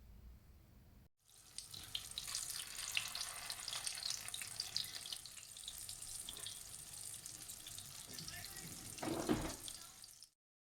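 Kebabs fry in a pan with a steady, busy sizzle that runs almost the whole way before cutting off, one louder burst of spattering near the end.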